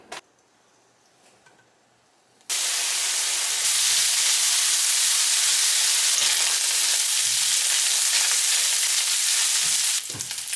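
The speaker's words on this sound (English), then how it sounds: "the first thing we're gonna do is crisp up this bacon" After a quiet start, bacon hits a hot skillet and bursts into a loud, steady crackling sizzle that continues close up for the remaining seconds, with no talk.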